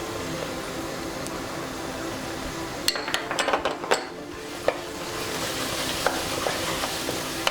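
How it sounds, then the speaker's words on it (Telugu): Garam masala fries in a pan for a sand fish curry, giving a steady sizzle with a spoon stirring and clinking against the pot in a burst of sharp taps midway. "మసాలా అంతా పచ్చివాసన పోయే వరకు మనం ఫ్రై చేసుకుందాం"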